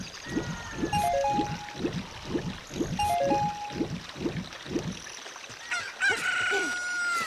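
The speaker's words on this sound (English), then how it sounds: "Look, a chicken hatched from the egg." A chicken that has just hatched from an egg in The Legend of Zelda: Ocarina of Time crows loudly in repeated rhythmic calls over a game music loop, then gives way to a brighter chime.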